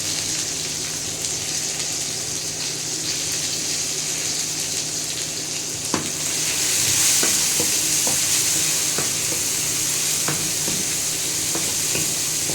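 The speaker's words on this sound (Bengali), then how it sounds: "রসুনটাকে লাল করে ভেজে নেওয়া পর্যন্ত অপেক্ষা করব" Garlic sizzles steadily in hot oil in a pan for a spinach dish, cooking until browned, with a continuous frying hiss and occasional sharp clinks of a spatula stirring.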